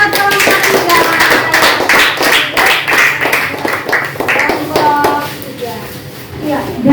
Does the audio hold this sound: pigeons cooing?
no